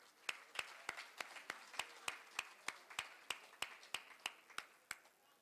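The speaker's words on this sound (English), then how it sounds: "Please join me, honorable members, in applauding the two resource persons." Applause for two resource persons at a National Assembly post-election seminar, heard as faint, sharp claps landing at a steady, evenly spaced rhythm.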